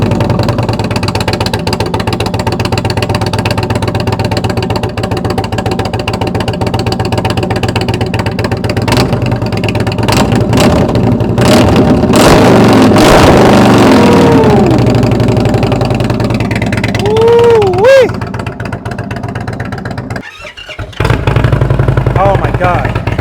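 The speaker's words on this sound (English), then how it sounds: "something about the engine of the Roadmaster that it just sounds phenomenal" An Indian Roadmaster motorcycle engine fitted with a Tab Performance exhaust, running steadily near the microphone in a deep continuous idle with a few revs, and a person talking over it throughout.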